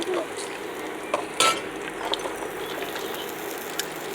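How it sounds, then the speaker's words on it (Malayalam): Sliced carrot and cabbage are stirred in a hot pan for hot and sour soup, with a steady sizzle and scraping utensil knocks, close and continuous. "അപ്പോൾ അത് തട്ടി കൊടുത്തിട്ട് നല്ലപോലെ ഒന്ന് ഇളക്കി കൊടുക്കുക"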